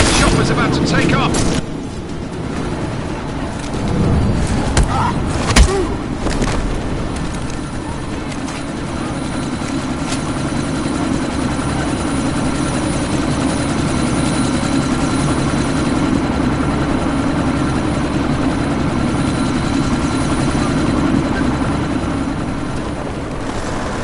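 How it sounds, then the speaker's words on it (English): A helicopter about to take off in Deus Ex: Mankind Divided gives a steady, loud rotor and engine drone that holds for the whole stretch, with a few sharp bangs and crackles near the start over the rumbling whir. "That chopper's about to take off!"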